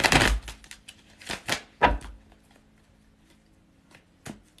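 Tarot cards are shuffled by hand, giving a few crisp riffling and slapping bursts near the start, then quieter scattered card taps and a final light snap, with no talking.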